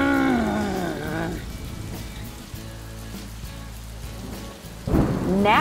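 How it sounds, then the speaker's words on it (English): Rain falls steadily as thunder rumbles, with brief tonal swells at the start and end. "Now it is raining in Soggy Hollow and everyone is disappointed."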